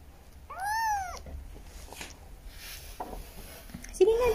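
A hungry kitten being bottle-fed at home gives one clear, loud meow near the start and a shorter cry at the end, with quiet handling noises and faint talk in between.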